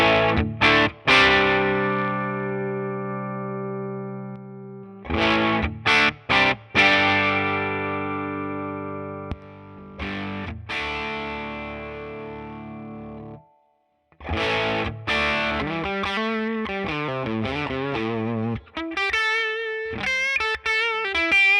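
Heavily distorted electric guitar through a MESA/Boogie amp model plays chords and sustained notes with pauses between phrases, ending in a run of quick notes; no voices.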